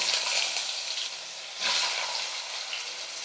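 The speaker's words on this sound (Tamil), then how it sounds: "கடுகெல்லாம் நல்லா பொறிஞ்சிருச்சு இப்போ மாங்காய் சேர்த்துக்கலாம்" Mango pieces frying with mustard seeds, cumin and dried red chillies in hot oil, a loud steady sizzle with a fresh burst of crackling midway as more goes into the pan, no voices.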